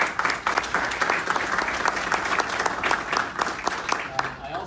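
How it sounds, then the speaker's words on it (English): An audience at a morning community update meeting applauds the town council with steady, dense clapping for several seconds, fading slightly toward the end. "So give a big round of applause for our council."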